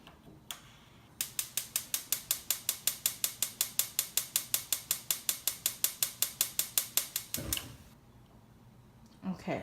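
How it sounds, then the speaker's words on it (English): Rapid, steady clicking from a stove burner igniter, about two dozen even ticks, ends in a brief whoosh as the flame catches under a skillet. "I'm going to turn on the pan so I could get the fire started."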